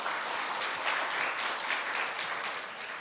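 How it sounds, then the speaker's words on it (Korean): Steady, dense applause from a seated audience at a business conference session on open innovation, even clapping throughout and somewhat distant. "다시 한번 큰 박수 부탁드리겠습니다."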